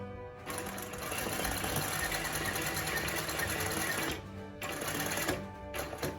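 A Singer 20U style industrial sewing machine running steadily while stitching embroidery, a dense continuous mechanical rattle with two brief stops near the end.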